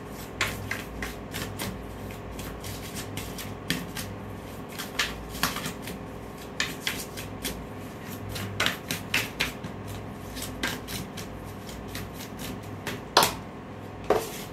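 Tarot cards being shuffled by hand, a steady run of crisp papery riffles and soft slaps repeating through the whole stretch at close range, with no talking.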